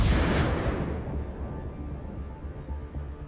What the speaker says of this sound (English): another drone drops a bomb on the MTLB